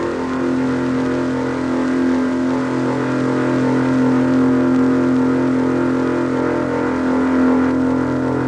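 An old boat's engine runs steadily, a loud, continuous droning hum with a strong low throb and no pauses throughout.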